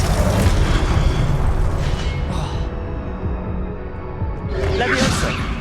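A spell cast in the wizarding game Hogwarts Legacy lands as a heavy, sustained magical boom with crackling energy, swelling again into a second burst near the end, loud and continuous.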